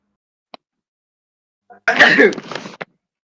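A person sneezing once, an abrupt explosive burst with a short breathy tail, preceded by a faint click and an inhale, heard close up in an otherwise quiet setting.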